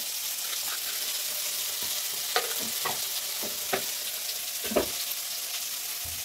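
Tomatoes sprinkled with salt and turmeric fry in a pan, making a loud, continuous hissing sizzle with several soft knocks and scrapes of a spoon stirring through it.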